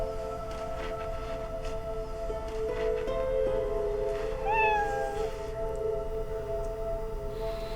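A cat meows with drawn-out, wavering cries over a steady background hum in a quiet house room, one clear rising-and-falling call standing out in the middle, no voices.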